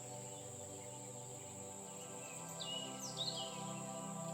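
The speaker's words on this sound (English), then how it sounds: "You can hear lots of different birds." A steady chorus of insects hums under faint, intermittent bird chirps in a quiet forest, distant and continuous.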